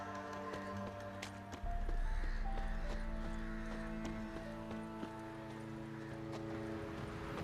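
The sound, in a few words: horse-drawn merchant's wagon in video game The Witcher 3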